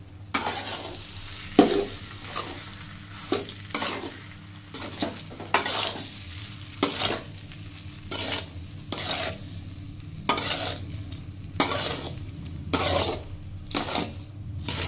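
Rice being stirred in a pan while frying for chicken fried rice, with repeated scraping spatula strokes in an irregular rhythm over a steady sizzle, close and alone with no talk.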